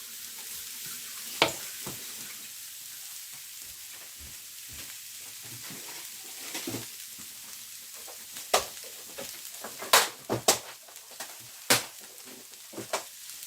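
Cabbage with urad dal fries in a pan after a little water is sprinkled over it. A soft, low sizzle runs underneath while scattered sharp clinks and scrapes of stirring come through.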